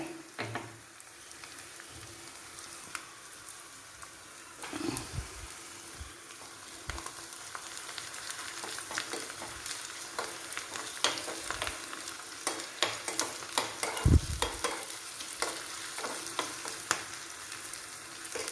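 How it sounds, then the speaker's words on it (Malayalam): Curry leaves frying in oil with garlic and ginger for papaya pickle, producing a crackling sizzle with sharp spoon clinks and scrapes that grow busier and louder toward the end, no speech. "അത് മൂത്ത് വരുമ്പോഴത്തേനും നമുക്ക് കറിവേപ്പില ഇട്ട് കൊടുക്കാം"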